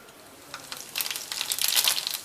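Cumin seeds dropped into hot oil for a spiced potato curry start with a few faint crackles, then burst into a brief flurry of sharp, close sizzling pops.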